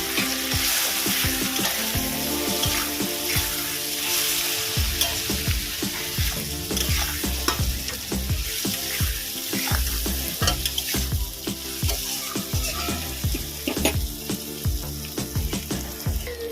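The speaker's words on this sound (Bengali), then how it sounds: "এবার এটাকে ভালো করে কষিয়ে নেব" Figs and prawns sautéed in a pan with chilli powder, cumin, turmeric and salt, giving a loud, steady sizzle with repeated scraping stirs throughout.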